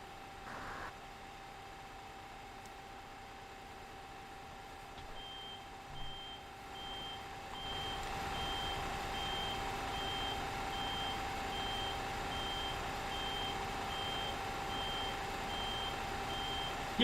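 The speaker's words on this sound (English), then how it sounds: "Somebody wanted the reversing sounds." In a bus driving video game, a truck's reversing alarm beeps in an even, regular rhythm under a low idling engine hum, with a quieter stretch first before the engine and beeps settle in steadily.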